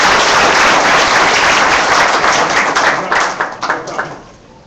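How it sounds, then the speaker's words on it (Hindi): A rally audience bursts into loud, close applause, dense clapping that holds strong for several seconds, then thins into scattered individual claps and fades away. "उनके लिए जोरदार तालियां।"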